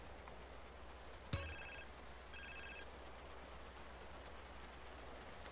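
A phone rings in GTA San Andreas, a short electronic ringtone heard in two separate bursts over a steady background hum, fairly quiet with no talking.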